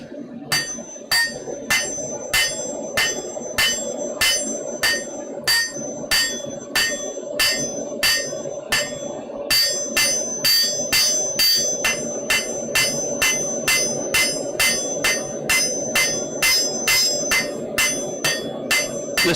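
A heavy hammer strikes metal repeatedly in a blacksmith's smithy in a steady rhythm, each blow ringing sharply, continuing for nearly twenty seconds over a low background rumble.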